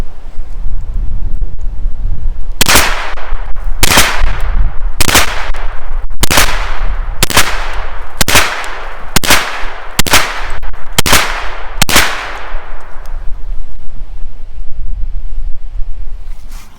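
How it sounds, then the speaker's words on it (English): Kel-Tec Sub-2000 carbine fired outdoors at a target 50 feet away: nine sharp, loud shots in a steady, evenly spaced rhythm over constant wind noise, with no talking. "not only was that easy to keep those shots center chest at that shot tempo from 50 feet"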